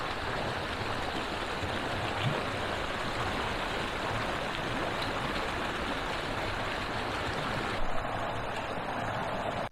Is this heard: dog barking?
no